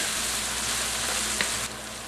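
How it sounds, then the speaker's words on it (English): Onions sizzle and fry steadily in a pan with black pepper for a chicken jalfrezi curry, a close, even crackling hiss with no voices over it. "I'm going to cook these onions for about another minute or two"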